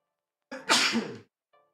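A single sharp sneeze, loud and close, with a quick intake of breath before it, then silence.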